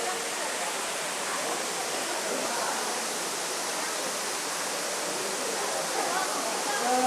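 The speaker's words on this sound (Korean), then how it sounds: "꼭 황금 폭포라고 해서 인공으로 폭포를 만들어 놓은 것 같아요." Artificial golden waterfall at a dragon-themed attraction, a continuous broad rushing of falling water, steady and fairly loud with no breaks.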